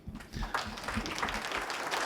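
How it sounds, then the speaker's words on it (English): Faint, distant applause from a conference audience for its speakers, a soft continuous patter of clapping. "please applause to the all speakers."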